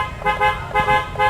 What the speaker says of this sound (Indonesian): klakson juga udah kita upgrade sebenarnya guys. Ini klaksonnya juga udah enak tuh ya.